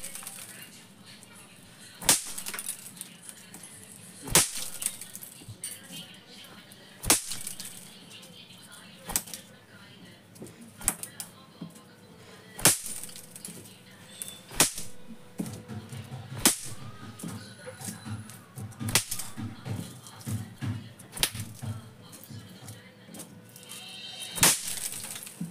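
Rs 10 pop pop firecrackers go off outdoors as sharp, scattered snaps and cracks, spaced a few seconds apart at first and coming faster later, over a low background with a voice talking.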